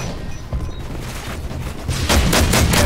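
Rapid bursts of gunfire from an online shooter game, a fast volley of sharp cracks that grows louder and denser toward the end, with no voices over it.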